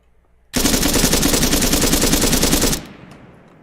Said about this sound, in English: Navid, basically hand cannon in machine gun form